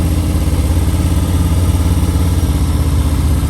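Motorcycle engine idling and blipping under light throttle, brake and clutch play during slow full-lock turns at Daytona Bike Week, a steady close chugging rumble with small rises in revs throughout.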